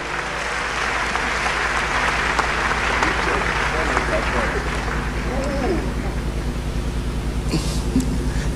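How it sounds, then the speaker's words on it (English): A congregation at a church farewell and induction service gives a sustained round of applause, loud, dense clapping filling the hall, with faint voices and a low hum beneath it. "Let's give them a round of applause"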